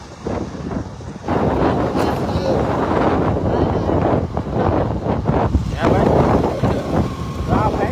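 Strong wind at Kotda beach near Mahuva, Bhavnagar, roars and buffets the microphone in a steady, loud rumble, with voices faintly mixed in.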